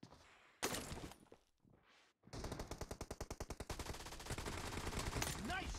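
Gunfire in the PUBG Mobile video game: a few sharp shots, then a rapid regular burst of automatic fire followed by more sustained shooting, loud and close, with a voice briefly heard.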